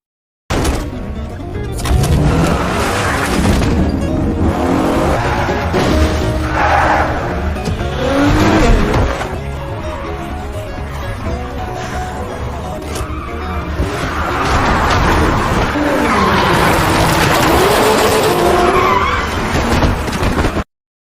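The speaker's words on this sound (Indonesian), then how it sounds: "tiba-tiba ada mobil yang datang" A car in a zombie film arrives at speed and drifts, with loud engine roar and long squealing tire skids, mixed with other action sounds and some voices.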